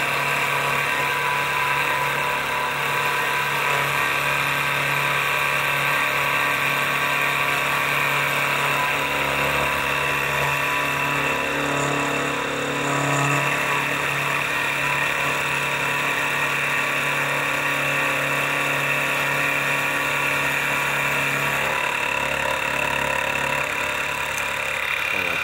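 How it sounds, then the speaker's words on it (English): A router fitted with a small Craftsman quarter-round bit shapes a wooden flywheel pattern for brass casting, producing a steady, loud whining drone throughout with slight fluctuations as it cuts. "This is a Craftsman router bit, and it's a quarter round, smallest one I got"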